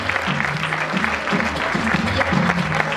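An audience at a women's council award ceremony applauds a photography prize winner with continuous, even clapping that fills the hall, while low sustained tones hum underneath.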